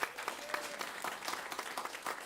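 An audience at an indoor culinary and regenerative agriculture celebration applauds, a steady patter of many hands clapping at moderate distance, fairly faint and continuous.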